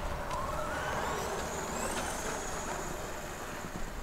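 A T2M Ripper radio-controlled car climbs a long hill outdoors, its electric motor giving a steady, faint whine over constant rough rolling noise from start to finish.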